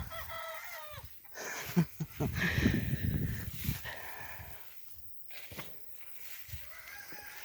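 Guinea fowl call in a squash garden, a burst of harsh, rapid cackling and chattering calls at moderate distance, loudest early and in the middle, then fading to sparse distant calls over outdoor background.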